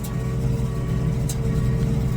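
A tractor engine, a T7 with auto steering, runs steadily while sowing cover crops in a field, a constant close low drone with a brief higher burst partway through.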